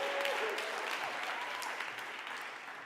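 A virtual ribbon-cutting audience gives a round of applause for school scholars, with moderately loud clapping that gradually thins out and a faint tone briefly sounding near the start.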